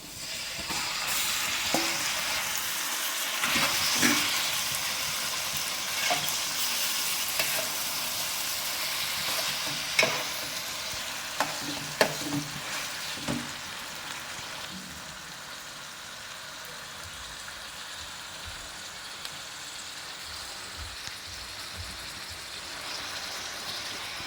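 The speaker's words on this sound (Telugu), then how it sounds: "వేగిన తర్వాత ఇప్పుడు మనం ఆ చికెన్ ఇందులో వేసుకుంటాము" Marinated chicken with spices frying in hot oil in a pan makes a continuous close sizzle, broken by scattered clinks and scrapes of stirring, with no voices.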